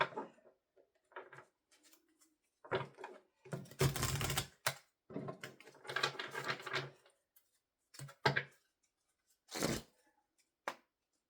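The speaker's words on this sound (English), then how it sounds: "I will do a little maybe shuffle with each deck" Tarot cards being shuffled in several short bursts of papery riffling and slapping, close by, with quiet gaps between the bursts.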